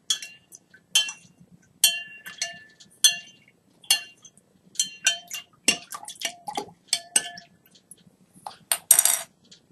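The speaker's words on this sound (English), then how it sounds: "Just do a little stirring." A utensil stirs water in a container to even out its temperature, tapping and clinking against the sides in a long irregular series of light, bright, close knocks.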